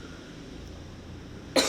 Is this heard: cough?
yes